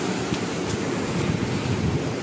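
Ocean waves wash steadily onto a south-coast beach, a continuous broad roar of surf with wind buffeting the microphone, and no voices.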